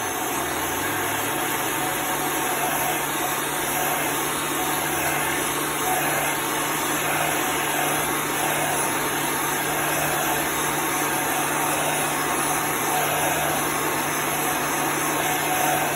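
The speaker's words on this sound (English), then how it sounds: "You want to continually move your heat gun." Heat gun blowing over chalk paste on a sign, a steady loud whirring fan drone with a constant high whine, unbroken for the whole stretch with no talk.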